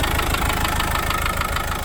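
A 1991 Land Rover Defender 110 with the 200tdi diesel engine idles close by, a steady low clattering rumble with an even knocking rhythm and no voices over it.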